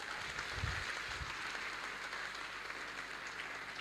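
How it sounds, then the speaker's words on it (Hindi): Quiet, distant applause from an audience at a talk, a soft continuous patter of many hands heard from afar. "जोरदार तालियां उसके पापा के लिए।"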